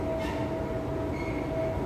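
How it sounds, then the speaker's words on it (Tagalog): Continuous rumble and whine of an MRT metro train moving, a steady rolling drone with a faint high tone. "Papasok ng MRT."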